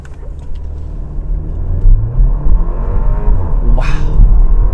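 A 2021 Porsche Macan with PDK gearbox launching hard from a brake-boosted start, the engine note climbing loudly under a deep cabin rumble with a rising whine, then a sharp quick gearshift before pulling on.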